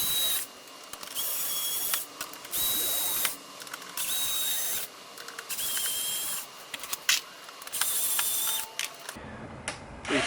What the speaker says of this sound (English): A magnetic screwdriver is definitely handy here. So you can lift those screws right out.